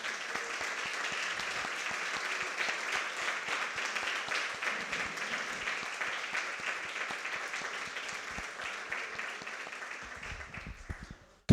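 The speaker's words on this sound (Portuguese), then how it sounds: "Você pode aplaudir a Jesus Cristo?" A church congregation at an Easter service applauds together in a sustained, even wash of clapping that lasts around ten seconds before tapering off.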